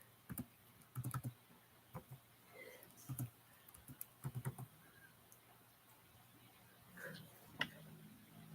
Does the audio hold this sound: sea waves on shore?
no